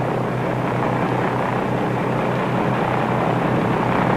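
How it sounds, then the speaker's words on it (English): Powerful piston engines of a de Havilland Caribou military transport plane roar in a loud, steady drone with no letup and no talking. "Tests to meet Army requirements have proved the worth of Caribou's powerful engines"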